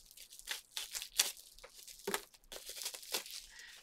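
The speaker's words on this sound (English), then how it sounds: "Get my pair of scissors and open it up here." Close-up crinkling and tearing of packaging material cut open with scissors, with sharp bursts of snipping and ripping spread irregularly across a few seconds.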